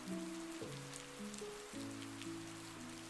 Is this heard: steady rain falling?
yes